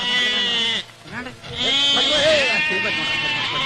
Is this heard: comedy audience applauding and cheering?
no